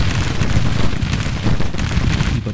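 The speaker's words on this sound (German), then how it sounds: "Kanonen schießen jetzt auch da rein." In a Civil War battle in the Grand Tactician video game, cannons fire repeatedly and the loud booms overlap into a dense, rumbling barrage with several distinct thumps.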